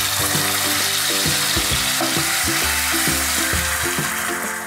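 A ground paneer gravy frying in oil makes a loud, close, bubbling sizzle, with repeated rhythmic knocks and scrapes of a spoon against the pan and no voices.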